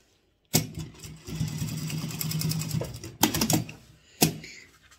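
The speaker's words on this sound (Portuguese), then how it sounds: "vou bater uma costura aqui de um lado" A sewing machine stitches a seam on a fabric toilet paper holder, running in close, loud bursts: one long steady run of needle chatter, then two shorter spurts after brief pauses, with no voices.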